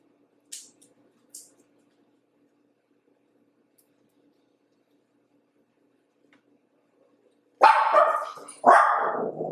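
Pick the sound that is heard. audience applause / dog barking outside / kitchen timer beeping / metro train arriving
dog barking outside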